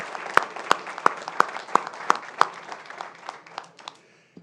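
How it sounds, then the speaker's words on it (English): Audience applause for culinary students at a school district board meeting, a run of sharp, evenly spaced claps standing out over softer scattered clapping that thins and fades toward the end. "big shout out and applause for these amazing students"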